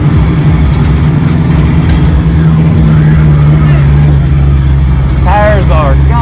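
A Ford Mustang drifts at 5 Flags Speedway, its engine droning loud and steady at close range while tire squeal rises in wavering tones near the end; some voice may sit faintly underneath.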